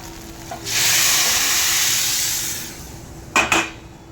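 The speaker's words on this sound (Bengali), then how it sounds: "এর মধ্যে এবার জলটা দিয়ে দেবো" Water hits a hot pan of fried rice and spices for pulao, bursting into a loud sustained sizzle that slowly fades, followed by a couple of sharp metallic clanks of utensils against the pan.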